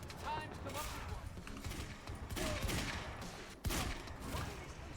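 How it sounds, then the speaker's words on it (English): Sustained automatic gunfire in the video game Quantum Break rattles steadily through a firefight, dense bursts overlapping with a sharp louder crack near the end, with voices talking underneath. "Why are they still shooting?"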